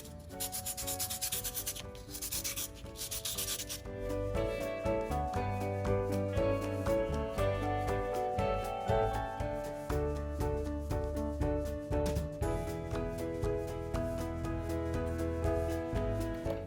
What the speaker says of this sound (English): you're simply going to start sanding